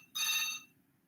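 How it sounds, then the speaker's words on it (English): Single short electronic phone ringtone burst for an incoming call, bright and clear, about half a second long, sounding alone in a quiet room before fading out. "I have a phone coming in."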